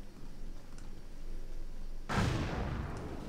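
Musket volley in a Battle of Waterloo video game: one loud, broad crashing blast of massed gunfire erupting about two seconds in, rumbling on afterward over a low battlefield din.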